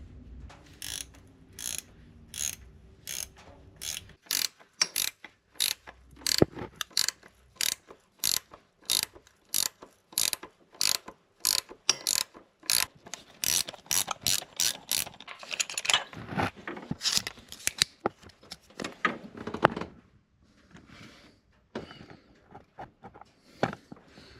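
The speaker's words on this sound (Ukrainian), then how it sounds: "Зараз будемо встановлювати сальники оправками. Тут де можна е, болт через оправку задавлюємо." A ratchet wrench tightens a bolt through a mandrel to press oil seals into a Mitsubishi L200 during timing belt work, making a long series of close, rhythmic clicking strokes that quicken midway and then thin out.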